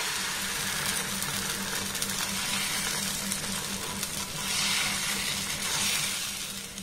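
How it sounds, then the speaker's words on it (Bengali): A ladle of batter sizzles on a pan brushed with a little oil, giving a steady close hiss that swells briefly partway through, with a low hum beneath and no talking. "আবারও এক হাতা আমি ব্যাটার দিয়ে দেব"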